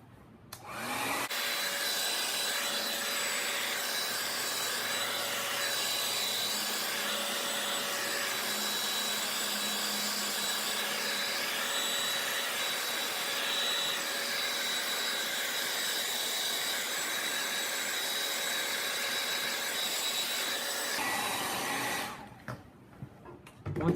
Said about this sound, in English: We're going to take the hair dryer and dry this thing off.